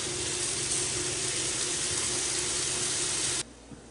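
Strips of homemade bacon frying in a preheated fry pan, a steady loud crackling sizzle that runs continuously and then suddenly drops to near quiet, no talk.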